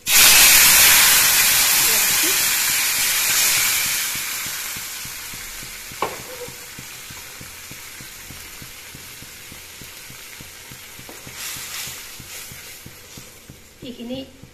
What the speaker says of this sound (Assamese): দাইলখিনি ভাজি দিম।